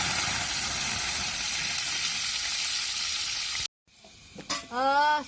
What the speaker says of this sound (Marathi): जो लसूण कापून घेतला तो आता आपल्याला तेलामध्ये